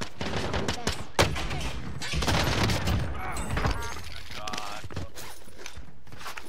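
Gunfire in Warzone, a ragged mix of bursts and single shots with footsteps and clatter, close and far, while players talk over it.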